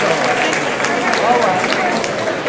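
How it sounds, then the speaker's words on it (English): Audience applause at the Washington Informer's 50th anniversary celebration at the Carnegie, welcoming Mayor Vincent Gray to the stage; a dense, steady wash of clapping from a crowd, loud and continuous throughout. "Just give him a round of applause."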